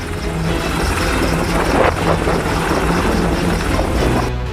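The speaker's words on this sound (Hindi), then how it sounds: "स्वदेशी लाइट कॉम्बैट हेलीकॉप्टर भी लद्दाख के आसमान में अपना जौहर दिखा रहे हैं।" HAL-built Light Combat Helicopter flying in the sky over Ladakh, a steady, loud rotor and engine roar that holds evenly throughout with no voices.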